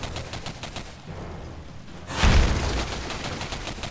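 Gunfire in the shooter game Singularity rattles in a quick volley, then a louder, heavier burst with a booming impact swells in the second half, with no talk over it.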